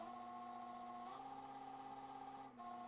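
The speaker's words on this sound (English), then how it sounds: "I'll turn the drill press on" A drill press runs steadily at around 900 RPM during a Telecaster neck-contouring job, a constant tonal motor whine with a slight shift in pitch partway through and a brief dip near the end.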